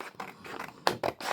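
Scissors cut paper for a junk journal with a few close, quick snips and scrapes in a short uneven sequence.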